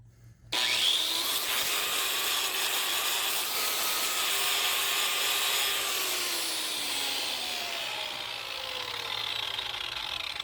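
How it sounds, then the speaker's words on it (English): A tool scrapes and grinds burrs off a steel splitting wedge support for a log splitter build, one steady close abrasive rasp that starts abruptly and carries on for about ten seconds, slowly falling in pitch as it fades slightly. "Just take the burrs off."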